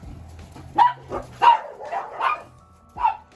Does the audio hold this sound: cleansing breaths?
no